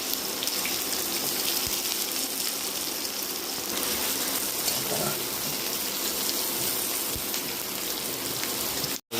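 Onions and bay leaves fry for a meat curry, giving off a loud, dense, continuous sizzle like heavy rain that holds steady before cutting off abruptly at the end.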